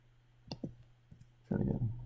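Computer mouse clicks while working in Adobe Illustrator: a few sharp, close clicks spaced apart, followed by a louder burst of handling noise.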